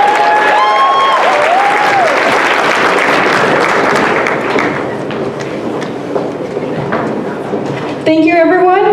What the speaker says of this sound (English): Give another round of applause for UNL Hip Hop Dance Club.